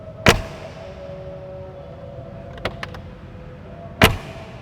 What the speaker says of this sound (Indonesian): mekanisme seperti ini menimbulkan suara khas tutup pintu G-Class yang sudah ada puluhan tahun seperti ini bunyinya